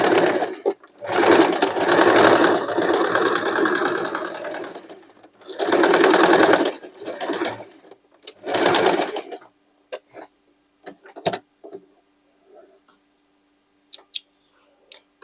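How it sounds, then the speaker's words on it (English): A sewing machine runs in loud bursts while stitching a pocket onto denim for a jacket made from old jeans. Three long rapid whirring runs are followed by scattered ticks and clicks as it stops. "Let's stitch the pocket just here to not forget."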